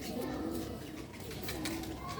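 Rooftop pigeons give soft, low coos, a couple of faint calls under steady background hiss.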